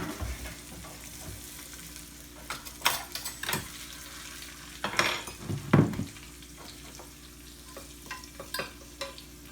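Bush beans and garlic fry in a pan, a steady sizzle broken by several clattering stirs and scrapes of a utensil against the pan, close and without talk.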